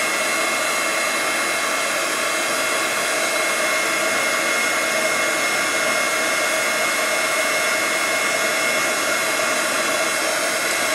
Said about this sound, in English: as that powder melts underneath the heat of your heat gun